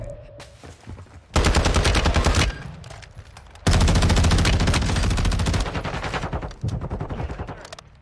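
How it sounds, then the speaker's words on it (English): Loud automatic weapon fire in Call of Duty DMZ, long sustained bursts of rapid shots broken by short pauses, close and dominating the mix. "I'm just shooting at anything right now."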